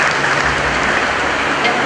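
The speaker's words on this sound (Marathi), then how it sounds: "आपण त्यांचं टाळ्या वाजवून स्वागत करूया" Dense, steady applause from a school audience welcoming a guest at an award ceremony, loud and close, holding constant throughout the short burst.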